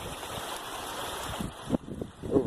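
A swollen creek rushes and churns in a steady broadband wash, with a few nearer splashes and gurgles toward the end of the short stretch.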